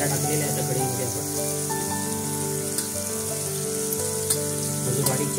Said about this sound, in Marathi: फोडणीमध्ये आता कांदा टाकायचा आहे